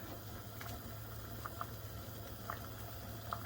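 Pear and lemon jam simmering in a pot, a steady low bubbling with soft, scattered pops and blips breaking the surface every second or so, close and quiet.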